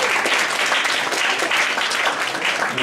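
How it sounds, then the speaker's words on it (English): Comedy club crowd at Yuk Yuk's applauding a comedian as he takes the stage, a dense, loud wash of clapping that holds steady for the whole stretch. "Give a round of applause for that"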